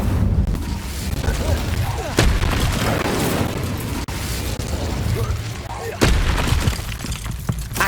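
Spells go off in Hogwarts Legacy, including an Incendio fire spell, with crackling whooshes and heavy booming impacts over dense, noisy combat sound, while a voice calls out incantations.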